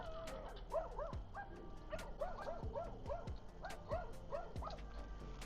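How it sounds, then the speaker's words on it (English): Ranch dogs bark at someone in repeated yips and barks, some with whimpering tones, at moderate distance over faint background noise. "I hear one is in this area barking at somebody"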